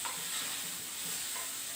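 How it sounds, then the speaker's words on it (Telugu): Chopped ridge gourd softens in a pan with a steady, even hiss of gentle sizzling and simmering, close and continuous, and no one speaks. "బీరకాయ మగ్గుతుందండి, చూపిస్తాను"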